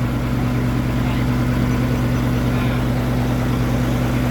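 A diesel truck tractor head with a newly installed K13C engine idles close by, a steady, even low rumble with a smooth hum running unbroken throughout.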